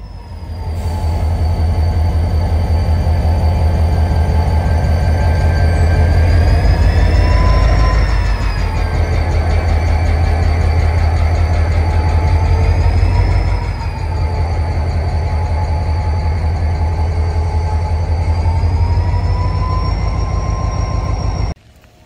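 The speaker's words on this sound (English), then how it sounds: "We made it to Talkeetna just in time to see the Alaska Railway starting to make its departure" An Alaska Railway train pulls out of Talkeetna heading north, a loud, continuous low rumble of engine and rolling cars with faint wheel squeals and whistle-like tones, steady throughout before cutting off abruptly at the end.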